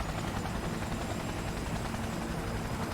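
Helicopter in the video game Cyberpunk after being hit, a loud, continuous rotor thrum and engine drone filling the scene at close range, with no voices over it.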